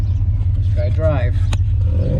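A Pontiac Grand Prix engine idles with a steady low drone after being shifted into drive through a newly installed B&M shifter, while a person talks briefly over it and a short click sounds.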